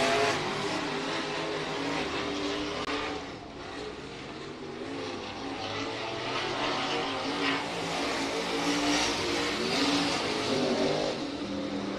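Race cars at Hibbing Speedway, a dirt oval track, roar continuously with engines revving and surging as the pack passes, a loud, dense wall of mixed motor noise with no talk.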